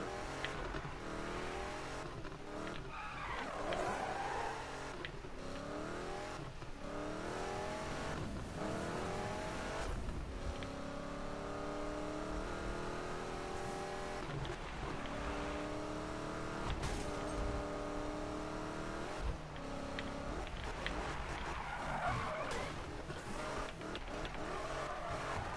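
Video game Ford Mustang racing car engine revving and shifting through gears in Need for Speed 2015, with tires squealing in skids, continuous and fairly close, no talking.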